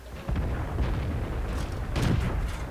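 Tank cannon fire in the video game World of Tanks, a dull, muffled boom over continuous rumbling engine and battle noise, with a stronger burst near the end; no speech.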